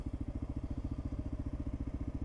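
A motorcycle with a 42 hp engine pulls away from a green light, giving a close, steady, rapid throbbing exhaust pulse with a rhythmic beat throughout.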